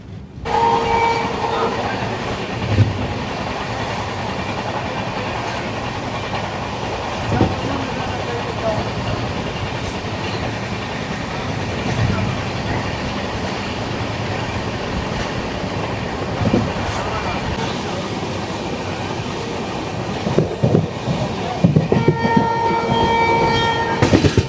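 A Palnadu SF Express with new LHB coaches runs on the Vikarabad to Guntur line. Its steady rumble and wheel clatter carry through the whole clip, and a horn sounds a few times. Brief voices come through faintly under the train noise.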